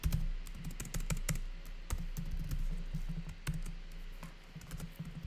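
Computer keyboard typing in a steady run of quick clicks with occasional sharper keystrokes, close and fairly quiet, while entering Python code for a beginner print() function exercise.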